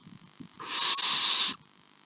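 A single harsh, breathy hiss from a barn owl, lasting about a second, loud and close against a quiet background.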